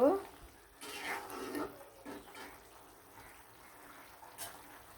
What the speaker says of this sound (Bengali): এটা কিন্তু লাড়াচাড়া দিয়ে দিলাম